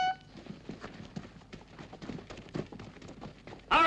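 Rapid, irregular hoofbeats of horses galloping close by in a western film, many overlapping thuds, ending in a sudden loud burst of noise.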